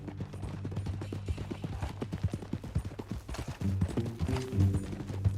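Horse hooves clip-clop in a steady walking rhythm on a ranch in the video game Red Dead Redemption 2, close and clear, with low ambient music underneath and the pace growing denser toward the end.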